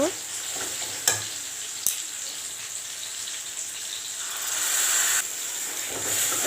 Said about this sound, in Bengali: এইভাবে ভালো করে কষাতে হবে